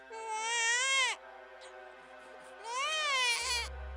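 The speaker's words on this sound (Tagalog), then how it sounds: "Maya-maya pa po ay may narinig akong iyak ng sanggol." Infant wailing in a horror story, two loud drawn-out cries separated by a short pause, close and clear, with a low thump at the end.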